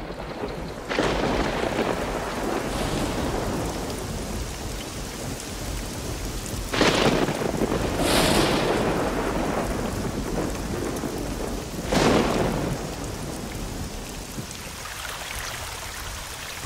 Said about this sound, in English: But now a tremendous storm is brewing.